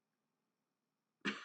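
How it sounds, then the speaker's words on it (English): A single short cough or throat-clear breaks a near-silent room at the very end, sharp and close, after more than a second of quiet. "coughing"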